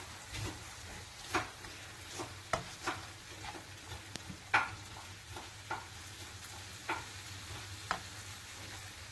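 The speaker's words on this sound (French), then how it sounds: "Et là, on va mélanger." Minced meat being mixed with spices by hand, soft squelching and patting strokes repeating irregularly at close range, with faint kitchen background and no talking.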